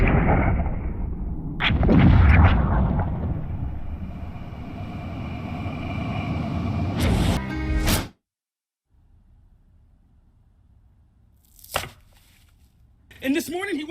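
A sniper gunshot in the anime Summertime Render: a sharp, loud report cuts off a busy scene, followed by near silence and a couple of faint later impacts.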